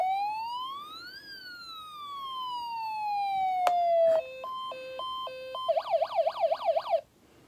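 A toy siren sounds alone, its tone sweeping up and down, then switching to a two-tone alternating wail and finally a fast warbling pattern before cutting off.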